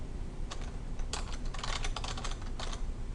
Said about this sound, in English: When I get done typing my paragraph, I will hit enter.